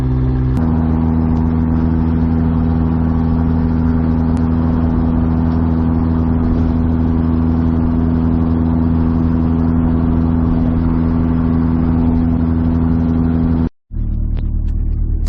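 A Nissan Hardbody mini truck engine running while driving, a loud steady drone with a constant hum, heard from inside the cab, briefly cutting out near the end.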